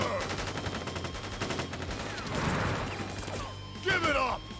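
Soldiers fire guns in the video game Crisis Core Final Fantasy VII, a dense burst of gunfire with a crash midway and sharp shots near the end, heard over game music.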